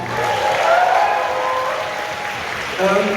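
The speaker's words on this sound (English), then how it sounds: "please, big round of applause to all of them" Audience applause at the closing ceremony of a fan convention, a dense steady wash of clapping from a crowd, loud and sustained with a few voices heard over it.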